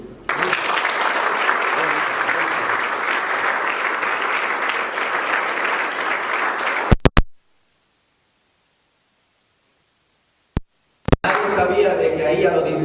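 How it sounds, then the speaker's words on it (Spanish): Church congregation applauds at a service, dense sustained clapping for about seven seconds before stopping abruptly into silence, followed by a couple of sharp knocks and the applause resuming briefly at the end. "Así que yo le pido un aplauso especial a Dios y a ustedes por ser."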